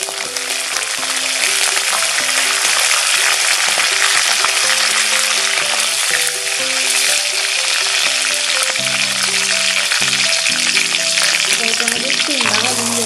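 Garlic cloves and curry leaves frying in hot oil for Kolhapuri bhadang, a loud continuous sizzle that holds steady throughout, with faint clinks of utensils underneath and no one speaking.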